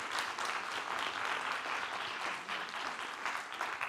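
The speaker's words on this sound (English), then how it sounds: "let's give them all a round of applause because they were awesome tonight" Audience applause at a university three-minute thesis competition: steady, moderately distant clapping from a seated crowd that fills the whole stretch without pause.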